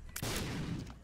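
Explosions go off in The Binding of Isaac: Afterbirth+ as a sudden rumbling burst of blasts that fades within about a second.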